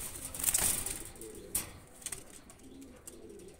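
Domestic pigeon cooing softly in low repeated notes alongside bursts of wing flapping, fairly faint and close, with no clear talk.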